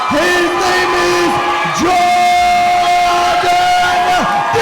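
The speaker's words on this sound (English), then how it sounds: "Jordan's got a big crowd here for him. Yeah, massive crowd." A big crowd at a JackhammerUK North fight night roars, whoops and yells for fighter Jordan Dixon, the cheering loud and sustained, with individual shouts rising in repeated swells.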